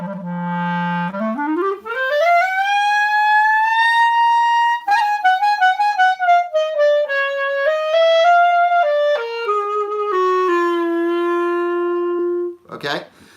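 Solo clarinet playing the opening of Rhapsody in Blue: a low trill, a long rising glissando smear, then a series of melodic phrases, loud and close, alone with no talk.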